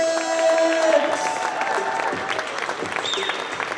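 A crowd at a women's college volleyball match applauds and cheers loudly in a large gym, with sustained clapping and scattered shouts.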